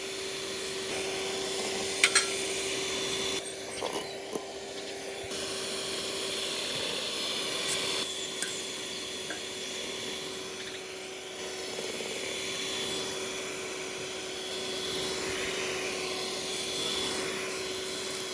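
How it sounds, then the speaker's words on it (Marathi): An electric mixer whips cream into butter, a steady motor whir with a constant hum and a broad rushing texture that runs unbroken and fairly close throughout, with no one talking. "मिक्सरान करा तुम्ही, रोखडे जातले."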